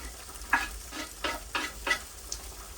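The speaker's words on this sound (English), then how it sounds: "let me give this a little stir up in there" Leek frying in a pan on a woodstove is stirred, with a steady sizzle beneath a series of about five scraping, clattering stirs in quick succession, close up.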